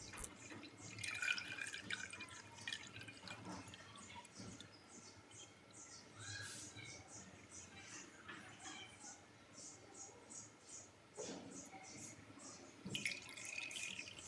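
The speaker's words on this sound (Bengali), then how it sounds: "আমি দুধটা ছেঁকে দিব।" Faint, scattered drips and trickles of a milk mixture falling through a strainer into a clay pot while making sweet yogurt (mishti doi), soft and irregular over a quiet kitchen background.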